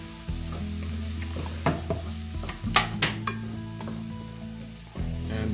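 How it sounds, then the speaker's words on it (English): Green chilies sizzling and frying in a pan for an egg scramble, with a steady crackling sizzle throughout and several sharp stirring scrapes of a utensil near the middle. "Saute it a bit."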